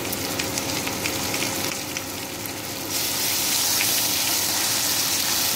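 Ginger garlic paste sizzles hard in hot oil with okra frying in a pan for a bhindi sabzi, a steady crackling hiss that grows a little louder and denser partway through, with no voices.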